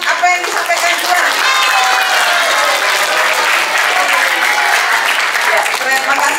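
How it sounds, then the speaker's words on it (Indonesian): Loud, sustained applause from a roomful of people, dense and steady for several seconds without a break. "Tepuk tangan, siapa setuju dengan apa yang disampaikan Juan?"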